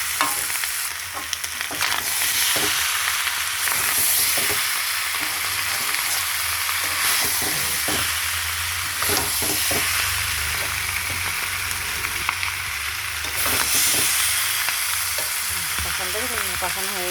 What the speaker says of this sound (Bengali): ভাজা ভাজা হয়ে গেছে, এবার জল দিয়ে দেবো।